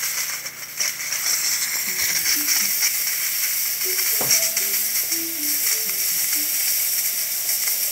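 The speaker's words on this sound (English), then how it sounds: "Now that the thermoblock is getting up to temperature, you can see the steam coming out through the one." Steam hisses steadily from the steamer of a DeLonghi Magnifica S espresso machine fitted with a new mecanovalve as its thermoblock heats, a continuous close sizzle with faint clicks and rattles partway through.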